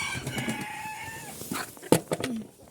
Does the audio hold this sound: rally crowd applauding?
no